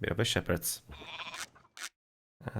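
Goats bleating in the strategy game Age of Mythology: a quick run of sharp, nasal bleats close together, with voices talking over them.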